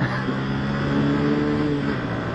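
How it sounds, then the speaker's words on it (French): A Honda CBF 125 motorcycle making a hard launch, its small engine revving loudly and rising in pitch as it pulls away, with steady rumble and no talk. "Attention, je vais faire un démarrage canon."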